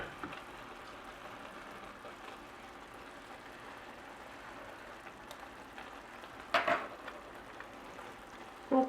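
Tomato rice simmering in a pot, a soft continuous bubbling hiss held at low volume, with a couple of brief knocks toward the end.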